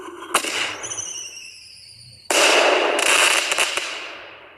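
Fireworks set off at night on a beach after being lit with a lighter: a sharp pop and whistling whine, then a loud sustained crackling burst with sizzling bangs close by.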